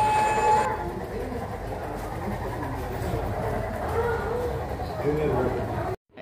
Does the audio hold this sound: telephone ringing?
no